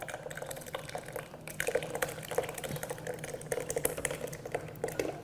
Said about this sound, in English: You just pour the cooled ingredients right inside.